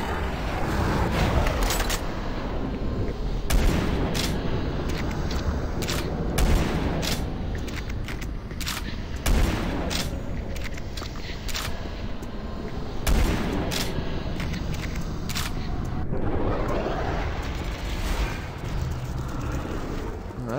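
Gunfire and explosions in the video game Doom 3: Resurrection of Evil, Erebus Station level, a steady run of sharp shots and booming blasts over a dense, roaring game backdrop.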